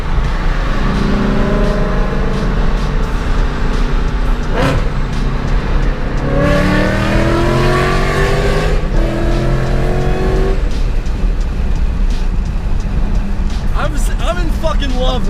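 A 700-plus horsepower Mustang California Special revs hard, its engine note climbing and falling in repeated loud sweeps with a brief squeal-like burst near the middle, under constant background noise and some voice.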